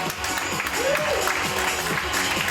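Audience applause greets the twelve remaining contestants at the Emerald Idol singing competition: a steady, dense clapping wash that fills the room throughout, with voices rising over it.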